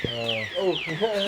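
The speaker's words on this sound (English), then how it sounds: "It's alarm." A car alarm in a street in Marawi gives a short burst of warbling, sweeping electronic tones, sounding nearby and fairly loud.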